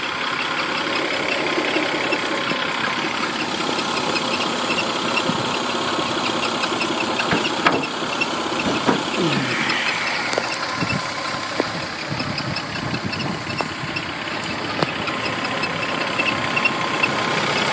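A 2000 Saturn L-series with a 3.0 liter V6 idles steadily, a continuous low engine rumble with light vibration and a few faint clicks and knocks over it, no voices.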